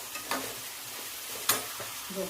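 Spices for a potato and ivy gourd curry sizzle in hot oil in a close pan, with a soft steady fry and a few sharp scraping stirs over it.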